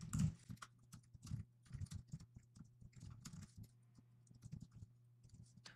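Quick, irregular tapping of keys on a computer keyboard, close and fairly quiet, with short bursts and pauses.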